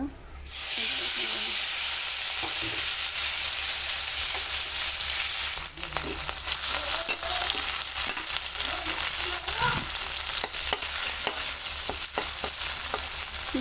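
Dried chepa shutki fish fries in oil with a loud, continuous sizzle and hiss, broken by occasional stirring clicks and spatters, with no voices.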